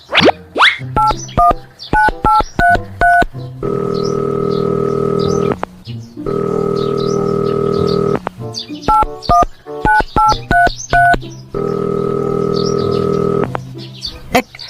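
A telephone beeps out a rapid run of dialing tones, then gives long steady tones between the bursts, with the pattern repeating several times. The sound is loud and close, with no talking.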